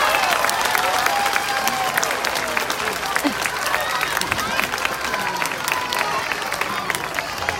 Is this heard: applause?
yes